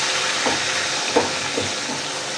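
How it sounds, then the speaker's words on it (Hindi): A spoon stirs sugar syrup in a pan, three or four soft scraping strokes over a constant bubbling hiss, close and without speech. "हल्का हल्का इसको चम्मच चलाते जाएंगे।"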